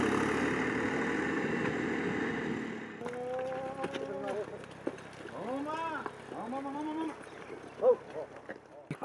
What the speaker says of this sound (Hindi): देखिए ट्रैक्टर जा रहा है अब।